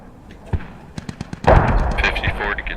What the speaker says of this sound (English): Let's see where those mortars are going to land.